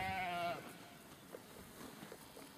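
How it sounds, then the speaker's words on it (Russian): A village herd of livestock grazing, tended by a rider on horseback, gives one clear wavering bleat up front, then fainter scattered rustling and soft calls fade into the open-air background. "Лиза Устинова сегодня пасет на лошади стадо села Потеряевки, поселка Потеряевки."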